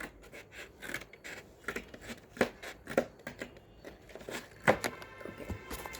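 Sharp scissors snip through cardboard in a run of short crisp cuts, close and moderately loud, with faint rubbing and handling noise between the strokes.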